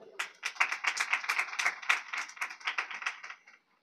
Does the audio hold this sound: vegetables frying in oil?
no